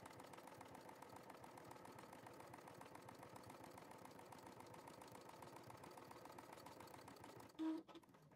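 Sewing machine stitching fabric for a Kindle holder, a steady, fast mechanical chatter running nearly the whole time before a brief stop and a couple of clicks at the end.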